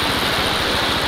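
A Honda Super Cub C50 Deluxe motorcycle engine runs in gear on a Georgian mountain road, a steady, loud rhythmic chugging thrum mixed with broadband rushing noise, with no voices.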